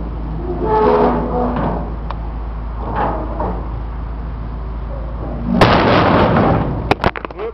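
Power lift gate on a Ford F600 box truck folding up, with creaking metal clanks and scrapes, a loud clattering burst near the end followed by sharp knocks, over steady low hum.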